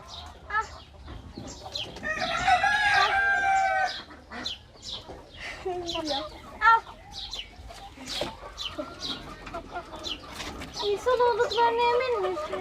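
Calm, tame roosters crow once loudly and cluck repeatedly nearby while people talk over and between the calls.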